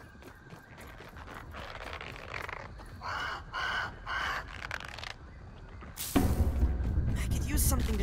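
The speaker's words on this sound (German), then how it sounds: "Der Vogel macht wieder Krach." A bird in the game Grounded caws in several rhythmic bursts over game ambience, followed by a louder, noisier passage at the end; someone speaks German around it.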